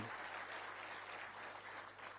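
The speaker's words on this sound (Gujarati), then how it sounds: "જોરદાર તાળીઓ" An audience at an appointment-letter ceremony for police sub-inspectors in Gandhinagar applauds in a steady, even wash of clapping heard from a distance over a low hum.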